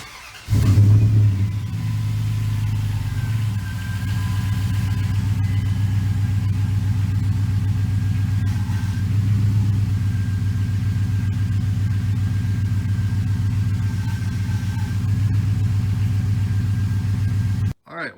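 Dodge Dakota or Durango truck engine running steadily after a power steering rack and pinion replacement, a loud close rumble with a rev near the start, then a sustained even drone until it cuts off at the end.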